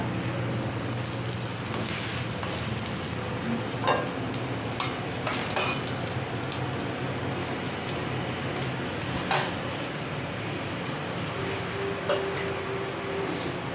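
Steady frying sizzle of a crisp rava dosa on a hot pan, continuous and close, with a few light scrapes and clinks of a utensil. No talking.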